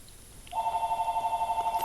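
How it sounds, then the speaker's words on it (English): A telephone starts ringing about halfway through, a steady warbling electronic trill that pulses rapidly and evenly, moderately loud above a quiet room hum. "Phone's ringing."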